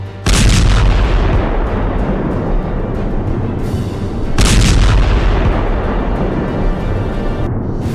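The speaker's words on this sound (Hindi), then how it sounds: "इजरायल की सेना ने भी मोर्चा संभाला और जवाबी कार्रवाई करते हुए लेबनान की तरफ ताबड़तोड़ मिसाइलें दाग दी" Israeli army missile and artillery fire launched toward Lebanon: two loud, booming bursts with long rumbling tails fill the whole stretch, the second roar starting midway and sustained to the end, no voices.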